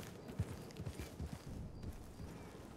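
A horse walks in Red Dead Redemption 2, its hooves clip-clopping in a steady, unhurried rhythm, soft and muffled against the game's outdoor ambience, with no talk.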